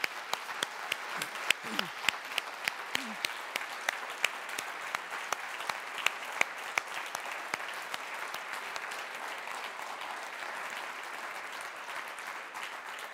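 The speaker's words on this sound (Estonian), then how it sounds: "teeme Mardi mälestuseks ühe korraliku aplausi." A conference audience at a human rights annual conference applauds in memory of a colleague, sustained dense clapping with sharp individual claps standing out, steady for over ten seconds, with a few brief voices early on.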